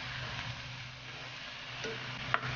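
Octopus sautéing in a pan for spicy coconut-milk ginataang pugita, giving a steady close sizzle with soft stirring scrapes and a sharp utensil tap near the end.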